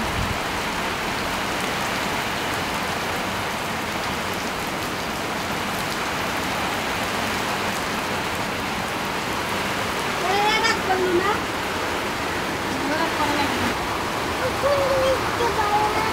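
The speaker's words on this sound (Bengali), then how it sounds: "জোরে এসেছে বৃষ্টি।" Heavy rain pours outdoors in a dense, steady roar of drops on surfaces, close and constant throughout, with faint voices briefly heard beneath it.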